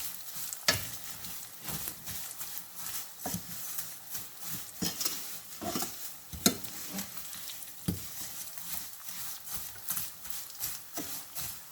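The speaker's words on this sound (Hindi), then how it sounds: "ये वाला मीठा जो है, इसको बस थोड़ा सा फ्राई करना है" Vermicelli for sweet seviyan fries in a pan while a spoon stirs it, giving a quiet sizzle broken by repeated light scrapes and taps at an uneven pace, with no talk.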